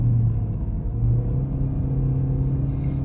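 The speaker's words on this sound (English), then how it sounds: "Can you hear the engine?" Car engine labouring uphill on a high mountain pass near Mont Blanc altitude, a steady low droning rumble heard from inside the cabin, loud and continuous with no voices.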